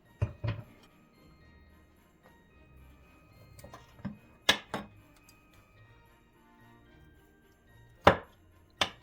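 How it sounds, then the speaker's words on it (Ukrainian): A knife slices through a layered herring-under-a-fur-coat salad with beetroot layers, making a handful of soft, separate thuds and taps as the blade meets the plate. They are spaced apart and close, with quiet gaps between them. "Він вже стабілізувався, і ми можемо сміливо його нарізати і куштувати."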